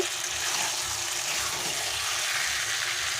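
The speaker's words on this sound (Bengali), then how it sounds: "এবারে আমি এর মধ্যে জল দিয়ে দেব" Hot water poured into a pan of jackfruit chicken curry, a continuous close splashing gush that lasts the whole few seconds without talk.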